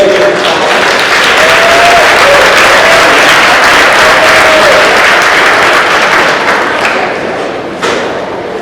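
Loud, steady applause from an awards ceremony audience welcoming a presenter, continuous claps that fade slightly toward the end.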